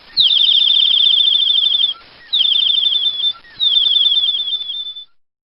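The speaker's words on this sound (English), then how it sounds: "Yeah, I know. It keeps tweeting." A bird sings three loud, close trilled phrases, each a rapid run of descending high chirps, separated by short pauses with no talking.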